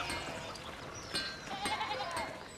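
Sheep bleat in the video game Pentiment, several overlapping wavering calls heard over a steady outdoor background at moderate distance.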